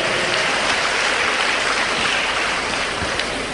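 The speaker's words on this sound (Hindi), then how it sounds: "ये सभी कैप्टन, मेजर, कर्नल, सभी लोगों के लिए जोरदार तालियां" A seminar audience claps loudly and continuously, a dense, even wash of applause with no voices over it.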